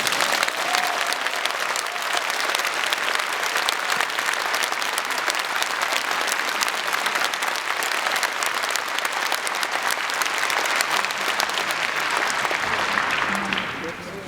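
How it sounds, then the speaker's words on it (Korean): A large congregation at a Seoul Catholic celebration applauds newly ordained bishops, with steady dense clapping throughout and some voices mixed in. "주교님께 박수 보내십니다."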